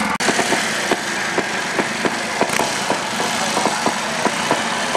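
A trials motorcycle engine runs in a steady, buzzy beat at a trials event, with regular sharp pops ticking through a constant drone from a middling distance.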